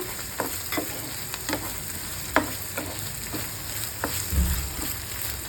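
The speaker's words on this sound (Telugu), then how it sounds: "ఇవి గోల్డెన్ బ్రౌన్ కలర్ వచ్చే వరకు ఫ్రై చేయాలన్నమాట." Ingredients for an egg tomato curry fry in hot oil until golden brown: a constant crackling sizzle, broken by sharp clicks of a utensil stirring the pan at irregular intervals.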